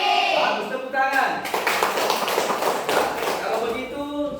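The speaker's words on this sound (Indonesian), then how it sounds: "Bagus, tepuk tangan." Students in a classroom clap their hands together in a burst of irregular taps and slaps, with a teacher's voice speaking over the start.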